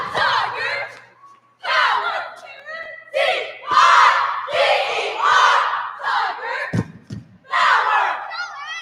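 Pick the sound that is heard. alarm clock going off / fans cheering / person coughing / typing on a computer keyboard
fans cheering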